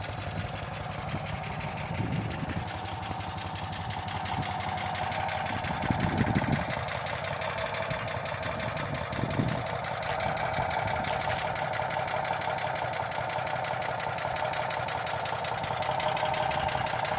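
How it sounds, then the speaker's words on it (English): A 1968 DAF 33 car's 750cc air-cooled two-cylinder engine idles steadily with an even, buzzy pulse, close by, with a few low thumps rising and falling and no talk. "And now it's running. 2 cylinders, air-cooled."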